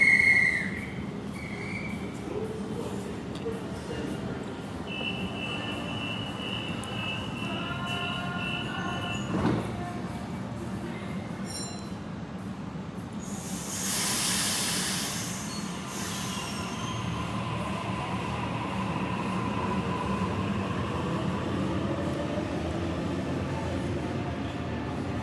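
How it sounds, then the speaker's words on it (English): A commuter train pulls into a platform at North Sydney station, rumbling steadily with high wheel squeals and whistling tones, and a louder hiss of brakes partway through; faint station ambience throughout, no clear voices. "I think there's a train arriving on platform 4."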